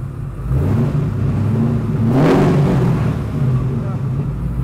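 Early Corvette, a ZR59 with an LS9 engine, revving low and steady, the engine note building and holding as the open-top car pulls away, with talk in the background.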